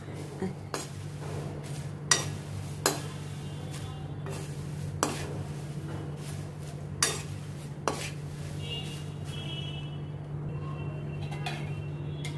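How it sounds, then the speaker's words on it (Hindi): Crispy fried shakarpare being moved from a kadhai to a plate, with scattered metallic clinks and scrapes of a spoon against the pan over a steady low hum. "अभी इनको मैं प्लेट में ट्रांसफ़र करती हूँ।"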